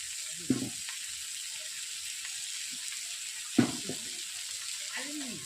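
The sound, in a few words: mustard and poppy seed paste water added to hot oil, sizzling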